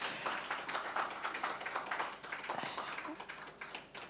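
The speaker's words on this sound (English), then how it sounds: "A round of applause, please." Applause from the audience at a celebration honoring Professor Adewale Olawoyin, SAN, as family members come forward for a picture; scattered, moderately loud clapping that stays steady for about four seconds with no voices over it.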